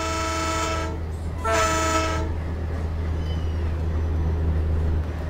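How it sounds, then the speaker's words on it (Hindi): A locomotive train in the Train Simulator 2 game, with two loud bursts of its horn over a steady low engine rumble that continues on alone afterward. "क्या शानदार ट्रेन लग रही है अपनी, लोकोमोटिव के पायलट लोको पायलट ने लाइटें भी ऑन कर रखी हैं लोको की अपने।"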